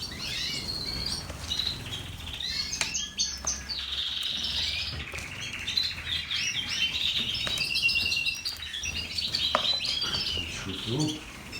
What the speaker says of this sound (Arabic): شوفوا الطيور.